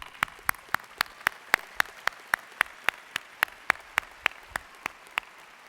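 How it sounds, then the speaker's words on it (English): Clapping at a doctoral hooding ceremony at UNC-Chapel Hill, honoring faculty mentors: a steady, evenly spaced run of sharp claps, roughly four per second, clear and close, with no talking. "Please join me in applause for the mentors."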